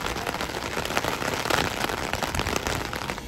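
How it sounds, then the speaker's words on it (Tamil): Heavy rain pours steadily onto a flat rooftop camp, a dense, continuous hiss with scattered close drops and splashes, fairly loud and with no talking. "ஐயோ செம்ம மழை."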